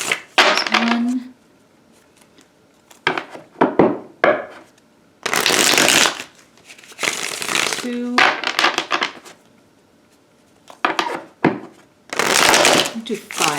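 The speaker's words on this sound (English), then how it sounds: "For some reason I feel like I need an extra couple shuffles here." Rider-Waite tarot cards being shuffled in several bursts of riffling and bridging, loud and close, separated by short pauses.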